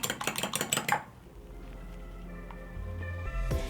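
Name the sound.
cracking an egg into a bowl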